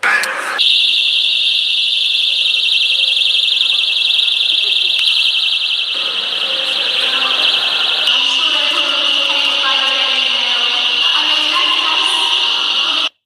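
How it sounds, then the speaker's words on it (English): A personal rape alarm tied to helium balloons shrieks continuously and loudly, a steady piercing tone held for the whole stretch, with crowd chatter and background noise beneath it. "they attached a rape alarm to some helium balloons and just let them go"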